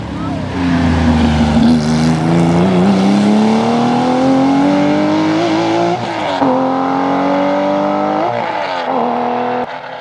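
Porsche RSR rally car at Rallye Côte Fleurie 2024, engine note dropping under braking then climbing as it accelerates hard with gear changes, loud and close with crowd noise around.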